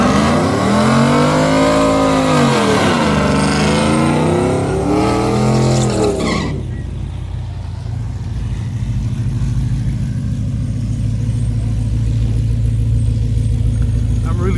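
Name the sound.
drag race cars launching, red Corvette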